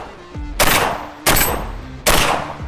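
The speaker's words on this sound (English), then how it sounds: "I'm gonna start out with some buckshot, and I'm going to use the semi-automatic." A Benelli M3 Super 90 shotgun fires Winchester PDX buckshot in semi-automatic mode, giving three loud, close blasts about two-thirds of a second apart, each followed by a short ringing decay.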